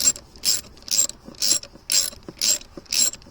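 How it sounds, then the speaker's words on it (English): A ratchet slowly tightening a 10mm bolt on a rubber hose clamp, seven crisp clicking bursts in an even rhythm, close and alone. "you're going to just slowly nip up this bolt here. Again, 10mm, that's all you need."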